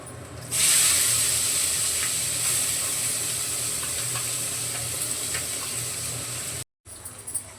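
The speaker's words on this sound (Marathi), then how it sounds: "कांदे परतले लसूण कांदा टाकते लगेच" Onions and garlic drop into hot oil in a pan and break into a loud, steady sizzle that holds for several seconds, cuts out briefly near the end, then resumes. No voices are heard.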